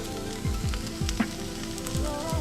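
Sweet corn and courgette fritters sizzle steadily in a frying pan, a constant crackling hiss with small rhythmic scraping knocks from a utensil moving in the pan, and no voices.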